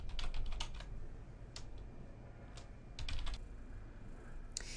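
Password being typed on a computer keyboard: irregular bursts of close, crisp key clicks with short pauses between them, over a low steady background hum.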